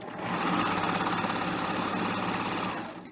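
A serger sewing machine stitches a 3-thread rolled edge on fabric while trimming, a steady rapid mechanical whir that ramps up, runs evenly for a few seconds, then winds down, fairly quiet and alone.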